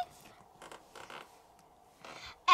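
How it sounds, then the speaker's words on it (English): The small plastic door of a Barbie advent calendar is pushed shut with a few faint creaks and rustles, then a louder snap at the end. "Okay, just close door number five."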